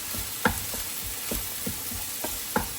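Spicy egg fried rice with fish sauce sizzles quietly in a pan while a utensil stirs it in a series of soft scraping knocks, roughly one every half second.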